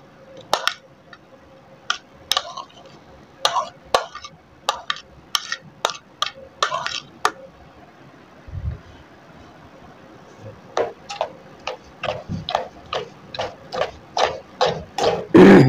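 A spoon mixes phool makhana dough with onion, tomato and green chili in a bowl, giving sharp, evenly spaced clicks and taps in two bursts, with a brief dull thump between them.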